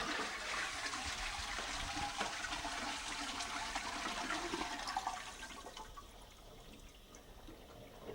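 A WC toilet flushes as the activator for a Cistermiser standard valve, a loud steady rush of water for about five seconds that drops to a quieter refilling trickle.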